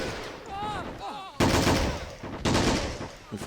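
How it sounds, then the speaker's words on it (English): Rapid gunfire crackles in an Army Men of War battle, with sharp bursts of rifle shots, including a BAR, cutting in loudly and repeating amid other weapon noise. "Exchanging fire."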